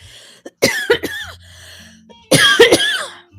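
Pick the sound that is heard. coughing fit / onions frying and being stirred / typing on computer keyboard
coughing fit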